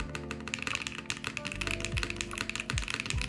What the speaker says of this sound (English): let me see about the spacebar. Sounds like a keyboard.